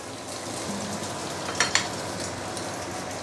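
Malaysian fried noodles sizzle steadily in a hot pan, half cooked and charred at the bottom, with a couple of brief metallic scrapes of a utensil breaking them up partway through.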